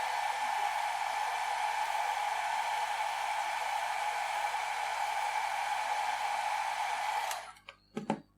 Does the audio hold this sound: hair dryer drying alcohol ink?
yes